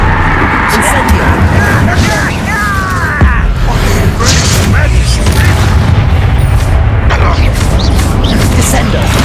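In the Hogwarts Legacy video game, an Incendio fire spell explodes amid heavy combat. Booming bursts sit over a dense, loud layer of battle noise, and a voice shouts spell names throughout.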